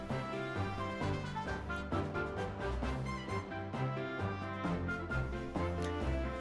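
Upbeat, busy electronic background music from The Great Ace Attorney plays steadily at a moderate volume, with a bouncing bass line and bright repeating melody, no talking.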